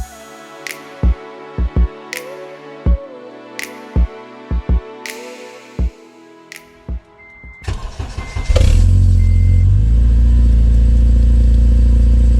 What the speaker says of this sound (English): we'll just do a little cold start for you guys.